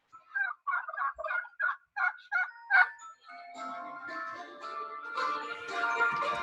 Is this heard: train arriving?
no